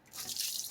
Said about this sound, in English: gray water from the last time I emptied it